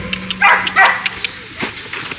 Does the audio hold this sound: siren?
no